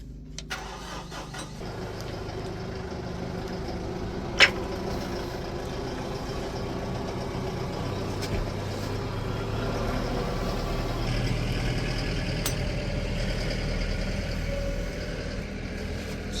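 A diesel tractor engine runs at a steady idle, a low continuous rumble with a couple of sharp clicks, close by and alone.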